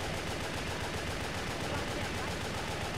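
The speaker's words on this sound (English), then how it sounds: "Luckily we saved some ammo from our special gun. A machine gun!" Machine gun fire in the action video game Wet, a dense, continuous rattle of rapid shots filling the whole stretch, with a voice speaking faintly underneath.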